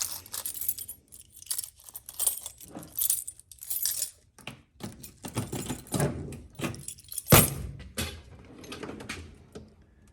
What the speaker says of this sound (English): Unlock the toolbox.